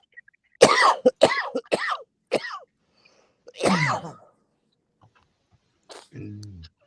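A series of harsh coughs in quick bursts, close by, followed by a lone cough and a short throaty sound; no other voices.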